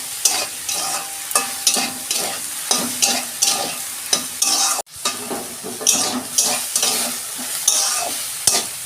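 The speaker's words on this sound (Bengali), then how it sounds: "সয়াবিনগুলো একটু ভেজে নিলে টেস্টটা ভালো হয়।" Chopped soybean chunks fry in oil with a bright, close sizzle, while a spatula scrapes and knocks against the pan in a quick, regular stirring rhythm, briefly pausing midway.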